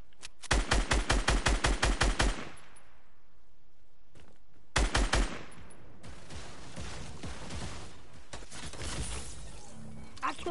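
Gunfire in a video game comes as a loud, rapid automatic burst of sharp shots that fades into a lingering tail. After a pause, a second, shorter burst is followed by rumbling, scattered impact noises.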